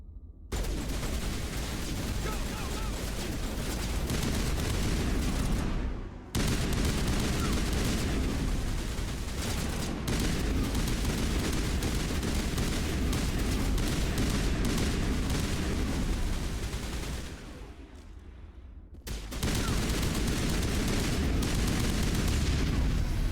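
Dense, sustained gunfire rattles through a firefight against mechs in Mass Effect, with rapid overlapping shots and booms that cut out briefly twice before resuming, loud and close.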